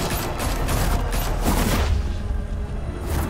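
Rapid gunfire volleys crackle in Batman: The Telltale Series, with dense overlapping shots close and loud for about two seconds, then a sparser rattle and a booming tail.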